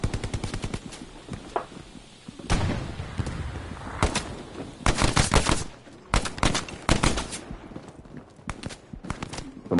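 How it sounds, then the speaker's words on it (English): Bursts of automatic and single-shot gunfire from close range ring out in the shooter game Hell Let Loose, sharp and loud, arriving in irregular clusters with brief gaps between volleys. "I climb up on this and shoot."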